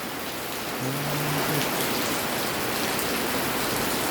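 Steady rain pours down outdoors, a dense continuous hiss of drops hitting surfaces at even loudness throughout, with a faint brief hum partway in and no voices.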